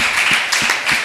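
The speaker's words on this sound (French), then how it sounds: "Des applaudissements, s'il vous plaît." A brief burst of dense clapping from a panel discussion audience, steady and fairly loud for about a second.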